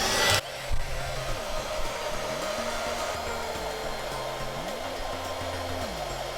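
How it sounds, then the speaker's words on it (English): A hair dryer blows steadily on crayon wax to melt it down a canvas, a loud continuous whooshing roar with a motor hum that shifts slightly in pitch as it is moved around, starting abruptly and running alone throughout. "depending on where you point the hairdryer, it's going to blow the wax that way"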